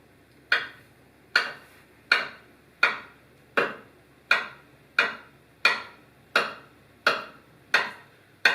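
Knife chopping rolled pasta dough into fettuccine strips, eleven sharp evenly spaced cuts against a board, close and clear with nothing else heard.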